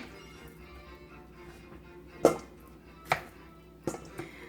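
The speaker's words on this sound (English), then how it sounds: "So I'm just going to chop these up." A knife chops cauliflower on a cutting board, four distinct sharp thuds spaced unevenly over a quiet background, close and fairly loud, no talking.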